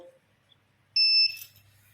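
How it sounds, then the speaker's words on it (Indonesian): Buzzer on a water level sensor sounds a steady electronic tone for about a third of a second, loud and alone, followed by faint low hum. "terpenuhi di atas 100 cm maka buzzer akan bunyi."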